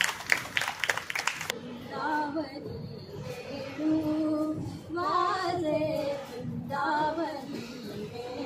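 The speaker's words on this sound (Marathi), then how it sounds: "त्याबद्दल टाळ्या तर नक्कीच झाल्या पाहिजेत." A gathering at a religious discourse gives a short, brisk round of clapping for the decorations that fades after about a second and a half, and singing voices follow.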